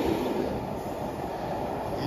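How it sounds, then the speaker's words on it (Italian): A train crosses a bridge in Luxembourg, a steady loud rumble and roar of rolling wagons heard from nearby without talk. "il treno che passa sul ponte del Lussemburgo"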